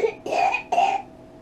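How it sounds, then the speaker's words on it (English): A three-year-old child coughs twice, close and fairly loud, each cough short and breathy with a brief pause between them. "Don't cough on me."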